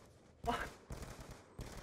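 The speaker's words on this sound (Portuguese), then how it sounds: "Ele me deu um tiro, ó." Gunfire in an online first-person shooter match, probably a sniper shot, heard as a few loud cracking bursts in quick succession over a low background, with speech mixed in.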